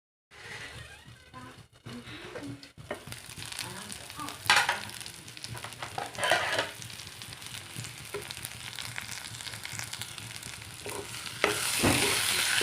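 Potatoes and spice paste frying in a pan, a steady sizzle with scraping stirs and a few louder clatters of the spoon, growing more intense toward the end.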